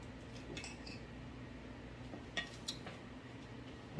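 A glazed honey garlic chicken thigh is cut with cutlery on a plate, giving quiet scraping and a few sharp metallic clinks against the dish.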